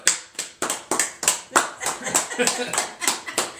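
A small studio audience on a talk show claps for a guest, distinct separate handclaps in a quick irregular rhythm, close and crisp, with talk around them.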